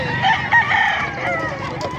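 A Lemon Sweater gamefowl rooster crows loudly and close in a short, strained call, with faint farmyard noise and other birds behind it.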